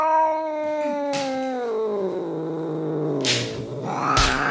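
A house cat lets out a long, drawn-out complaining meow that slides downward in pitch, close and fairly loud, with a brief noisy rustle near the end.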